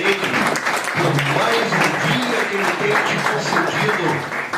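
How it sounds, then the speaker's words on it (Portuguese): A church youth congress congregation applauding, a dense, continuous wash of clapping with voices mixed in throughout. "Você já deu uma salva de palmas para o Senhor Jesus hoje?"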